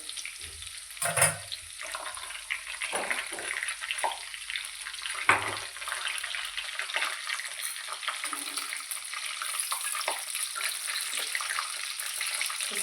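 Crushed garlic cloves frying in hot oil for a methi bhaji, the leftover water spitting and crackling in a steady sizzle with scattered louder pops, close and continuous with no talking.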